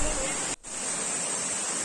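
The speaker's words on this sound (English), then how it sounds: "Now we have to climb this waterfall and reach the top and go ahead." A waterfall on a hidden trek route in the Western Ghats roars as a constant, broad rushing wash, loud and close, with one brief dropout partway through.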